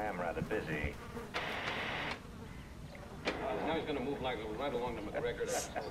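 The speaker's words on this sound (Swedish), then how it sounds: "Det är så himla irriterande när det är bin som surrar i bakgrunden också med mina hörlurar." Bees buzz steadily in the background of the Hello Neighbor video game, a continuous droning hum that runs the whole time beneath a voice talking and other game sound effects.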